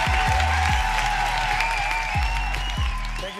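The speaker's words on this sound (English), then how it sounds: "Thank you for that amazing round of applause" A live audience gives a sustained round of applause, dense clapping mixed with crowd noise filling the whole stretch, with some lower vocal sounds underneath.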